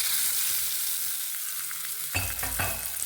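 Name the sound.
tempering sizzling: curry leaves and dried red chillies frying in oil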